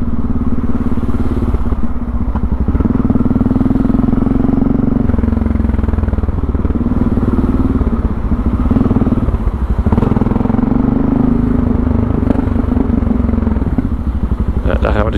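A motorcycle engine drones loudly and steadily at close range, with road rumble and wind noise and occasional clatter as it rides along.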